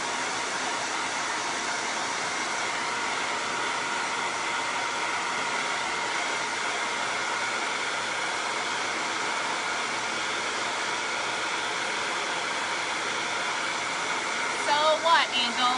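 Heat tool blowing hot air to heat-set blue chalk ink, a constant loud whooshing hiss that runs unbroken for the whole span, with a few brief knocks near the end.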